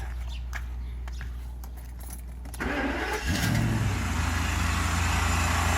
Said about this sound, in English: We're going to start the vehicle with throttles just like that